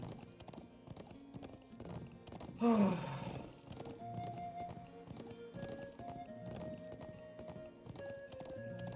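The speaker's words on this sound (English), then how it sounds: "this chapter still has, like, 6 minutes of freaking horse riding in it." Hooves clip-clop in a steady, rhythmic gait while riding a horse in Trails of Cold Steel, a Falcom video game. A brief snort or whinny cuts through, and soft game music plays underneath.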